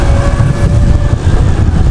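An Aera Matter geared electric motorcycle accelerates, giving a loud, steady whine and rumble of motor and road noise close by.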